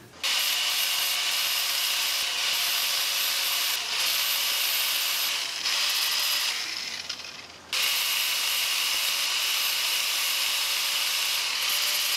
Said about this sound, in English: Use my grinding wheel. We're going to bevel this edge right here and we're going to grind that flat.